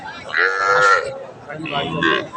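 A single loud cow moo, drawn out and close, followed by a second lower bellow, at a cattle market, with no talking.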